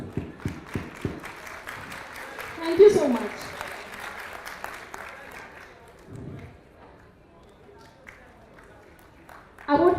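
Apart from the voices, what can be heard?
audience round of applause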